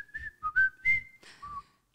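A person whistles a short jingle tune, several clear rising and falling notes in quick phrases, close and alone, ending with a brief pause.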